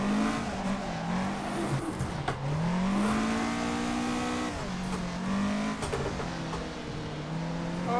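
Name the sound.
car engine driving in Assetto Corsa video game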